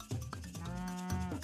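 A cow in the video game Super Auto Pets lets out a single short, low moo, clear and close, with no other sound around it.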